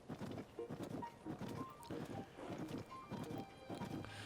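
Horse hooves clip-clopping in Tears of the Kingdom, a steady, even rhythm of close, repeated hoofbeats running throughout.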